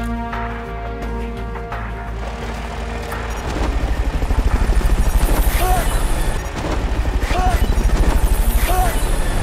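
Helicopter in the video game Metal Gear Solid Peace Walker, a loud, steady rotor chop and engine drone that grows heavier partway through, with a constant background rumble.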